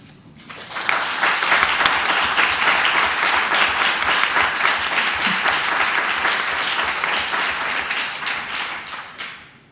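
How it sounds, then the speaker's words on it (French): An audience at a university event claps steadily for nearly ten seconds, a dense sustained round of applause that swells quickly, holds and then tapers off at the end. "Alors, je vous demande de les applaudir"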